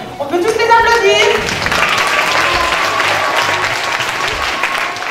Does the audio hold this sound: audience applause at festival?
yes